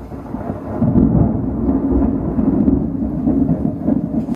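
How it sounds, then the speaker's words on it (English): A loud, close thunderclap rolls into a long, deep rumble during a storm, with rain hissing steadily underneath. "Yeah, you don't like the thunder,"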